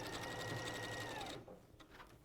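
A sewing machine stitches small fabric pieces with a quiet, rapid whirring hum that stops partway, followed by faint handling clicks.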